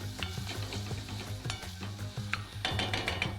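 Minced shallots sizzle in hot oil in a pan while a utensil stirs them, with a steady frying hiss and scattered scraping knocks, close and moderately quiet, with no voices.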